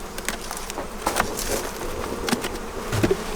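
Honeybees from an abandoned hive buzz close by, a continuous drone with individual insects zipping past the microphone and no voices.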